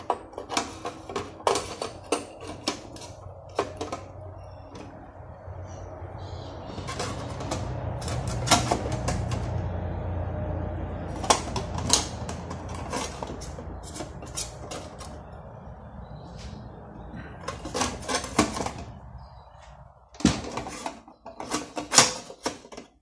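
Rocket stove parts being clamped down during assembly of a no-weld stove, heard as scattered sharp metallic clanks and clicks with a steadier scraping stretch in the middle, close by, and no talking.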